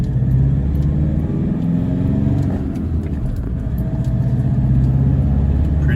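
Worn diesel engine of a Toyota Hilux N70 pickup with the 1KD-FTV D-4D, 231,000 km, low power and smoking, pulling away slowly: a steady low rumble with mild revving rising and settling, close and loud throughout.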